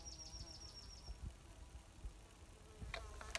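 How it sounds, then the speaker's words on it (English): Flies, gnats and bees buzz faintly around a hiker on the Appalachian Trail: soft intermittent whining passes with a few louder close buzzes near the end, set against quiet outdoor ambience and distant bird calls. "And flies and bees are buzzing around."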